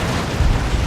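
A rocket run strike from Space Marines in a Dawn of War 2 battle bursts in a single loud, dense explosion that rumbles on for about a second without any pause.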